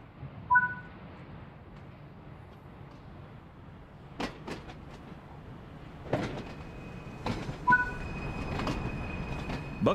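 A train rolls along with a low, steady rumble, broken by scattered clanks and faint wheel squeals; quiet and fairly distant overall. From Train Sim World 3, on the Peak Forest Railway, heard from a brake van.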